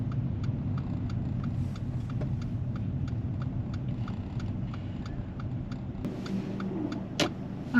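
A learner driver's car pulls in and parks at a roadside with single yellow lines, giving a steady low engine and road rumble with faint ticking, no speech.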